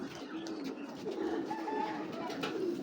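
Very large-sized pigeons, including a male, coo in low, soft, continuous murmurs nearby, faint under a steady noisy background.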